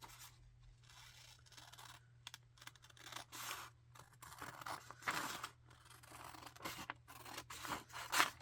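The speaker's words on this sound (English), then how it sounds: "I'm going to cut out my patterns." Scissors cutting paper sewing patterns, a series of quiet close snips and crisp paper rustles in irregular bursts, with faint scraping between cuts and no voices.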